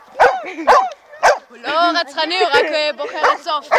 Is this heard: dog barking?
yes